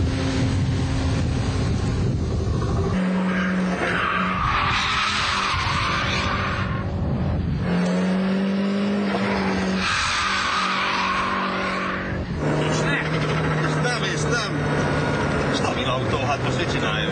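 A Lancia Delta Integrale 16v slides sideways through a corner, its engine roaring loud and steady with rising and falling revs and tyre noise, while people talk over it.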